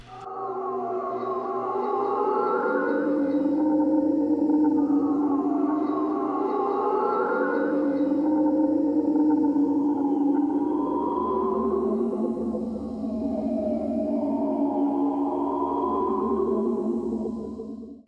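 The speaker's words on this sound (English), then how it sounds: "This is the drone preset from the Granular Whale Song section." A slow, droning synth preset from Spitfire Labs' Granular Whale Song range, layering wavering, whale-like tones that swell and glide for about eighteen seconds, loud and alone with no talk.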